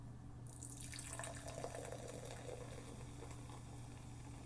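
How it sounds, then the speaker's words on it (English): Mtn Dew VooDew soda pours into a clear glass, a faint steady fizzing and splashing stream over a low background hum. "a nice clear glass into which we're going to pour the soda"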